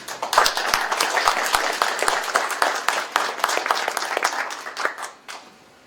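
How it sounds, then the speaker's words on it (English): Audience applause at a college presentation event: a steady round of many hands clapping with sharp individual claps audible, continuing for about five seconds before trailing off abruptly. "so please give them a round of applause."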